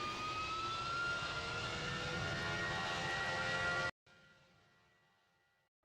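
A jet airliner in the Roblox flight game PTFS roars steadily and loud with a whining engine tone, then cuts out abruptly to a fainter, fading engine hum before briefly swelling again.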